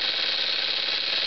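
A small Jensen model 25 toy steam engine running under steam pressure with a pressure gauge attached, giving a steady, close, continuous whirring hiss with no breaks.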